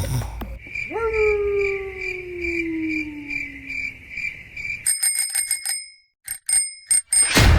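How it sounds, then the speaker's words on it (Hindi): A bell rings several times in quick bursts, bright and close, with a low sliding hum and faint background noise, in a cartoon. "ये तो वही घंटी की आवाज है।"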